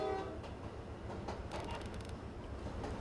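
A freshly spawned train engine in Roblox Jailbreak rumbles steadily with a brief horn at the start and faint rhythmic clatter, heard fairly quietly at a distance.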